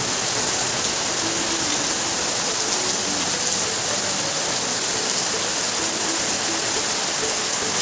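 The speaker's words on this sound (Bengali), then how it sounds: "এই দেখো বৃষ্টি ঝম ঝম ঝম ঝম ঝম ঝম করে নামছে বৃষ্টি।" Heavy rain pouring down steadily, a dense continuous hiss of rainfall with no pauses and no voices.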